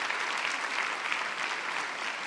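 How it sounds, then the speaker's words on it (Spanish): A church congregation applauds, a dense, steady wash of clapping from many hands heard alone at moderate level. "Un aplauso para usted, querida hermana."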